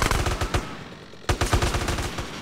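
Rapid bursts of automatic gunfire from a GTA: San Andreas shootout, loud and close, with a brief pause before the firing resumes in quick repeated volleys.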